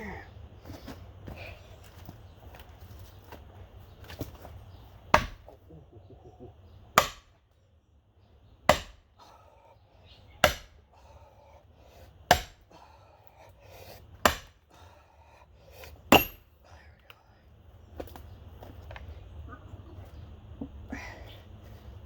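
A twisty log is split by hand and quartered for carving, giving about seven sharp, loud chopping blows spaced a second or two apart over low outdoor background noise.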